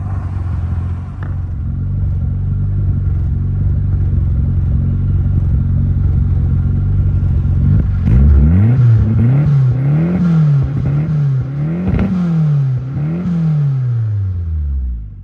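An engine idles with a low rumble, then is revved several times in a row, each rev rising and falling, loud and close.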